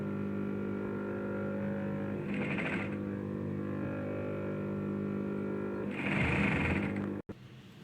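A sewing machine stitches piping onto the back of a dress, its steady motor whirring under two louder bursts of fast stitching, then a sharp click as it stops.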